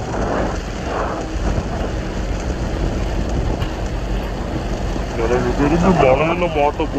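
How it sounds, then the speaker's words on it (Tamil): Heavy rain pours near a waterfall eco-tourism site in Palakkad, Kerala, a dense continuous wash of noise with low rumbles, while people talk over it. "வாரு நல்லா மழை பெஞ்சிட்டு இருக்குது."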